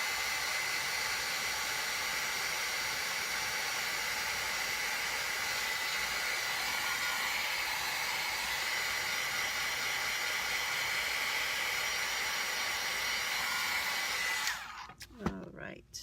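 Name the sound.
hair dryer drying wet paint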